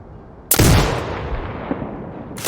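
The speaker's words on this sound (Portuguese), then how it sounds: "Ali que é um tiro na cabeça." A single sniper rifle shot in the video game Sniper Ghost Warrior Contracts 2, a sharp loud crack followed by a long fading echo and a faint later report.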